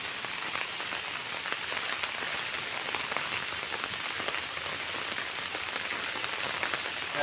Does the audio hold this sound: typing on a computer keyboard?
no